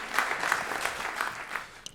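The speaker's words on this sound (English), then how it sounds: "Please give him a warm round of applause" Applause from the audience at a live debate show as a guest judge is introduced, a fairly faint, steady patter of clapping throughout.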